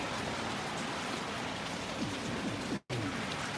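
Steady rain falls in Jamaica with a constant close patter and hiss that cuts out for a split second near the end. No one speaks.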